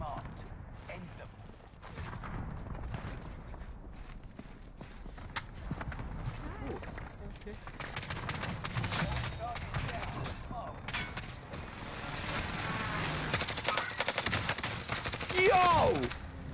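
Gunfire in a video game rattles through a busy mix of footsteps, movement and other game noise at moderate level, with people talking over much of it.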